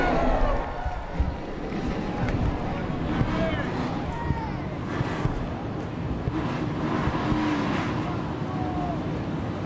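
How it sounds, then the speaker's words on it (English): NASCAR Xfinity Series race car engines fire up and rumble at a track on a cloudy afternoon, a broad mechanical roar with wind buffeting the microphone and voices over it. "Drivers, start your engines!"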